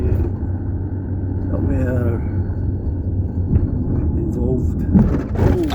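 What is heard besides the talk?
car driving around a coal bing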